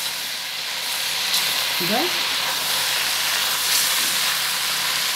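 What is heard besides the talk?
vegetables added to hot pot with meat and onion, hissing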